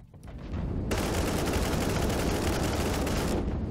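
Dense, continuous gunfire from Warhammer 40k: Inquisitor - Martyr, a loud unbroken fusillade that starts abruptly within the first second and runs steadily to the end with no voices.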